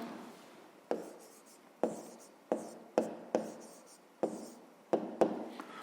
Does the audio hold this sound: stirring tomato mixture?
no